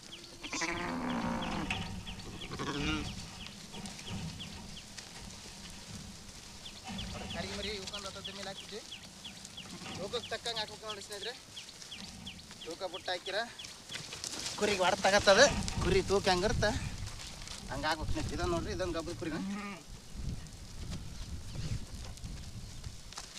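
Sheep bleat repeatedly on a farm, several overlapping calls rising and falling through the middle of the stretch, while someone talks over the flock.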